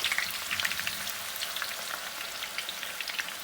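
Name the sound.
onions frying in hot oil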